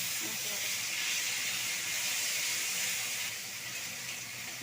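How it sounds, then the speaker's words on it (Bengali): Ground spice paste sizzles and hisses steadily in hot oil with onions, bay leaf and green chilli in a pan for katla fish curry, a close continuous fry that eases slightly near the end. "মশলাটা আমার ভালোভাবে ভাজা হয়ে গিয়েছে"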